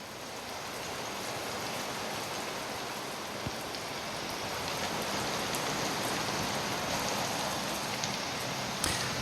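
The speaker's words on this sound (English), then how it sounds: "Some rain. Gonna loop it," A rain recording looped in Ableton Live plays as a steady, dense hiss of falling rain and patter on surfaces, continuous and even for the whole stretch with no voices.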